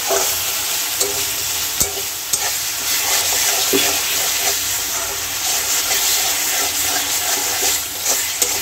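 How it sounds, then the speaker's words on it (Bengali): Water being added to curry in a cooking pot, giving a loud steady sizzle and hissing steam with a few soft clinks from utensils. "আগে একটু জলটা অ্যাড করে দিই।"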